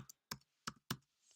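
Four sharp keystroke clicks on a computer keyboard as a password is typed, spaced unevenly and close-up, with near silence between them.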